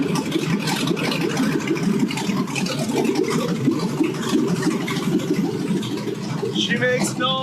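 A truck engine running without coolant after a 4L60E transmission build, a steady rough idle with a constant mechanical drone close by throughout, briefly interrupted by a faint squeak near the end.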